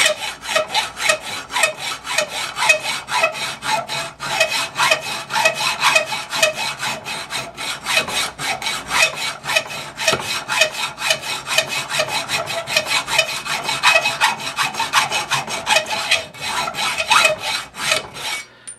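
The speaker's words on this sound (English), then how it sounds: "I'm using a 12-inch hacksaw, 32 teeth. It's a fine tooth hacksaw." A 12-inch fine-tooth hacksaw with 32 teeth cuts a slot in a hand-engraving machine handpiece, giving a steady run of rapid back-and-forth rasping strokes, close and fairly loud, without a break.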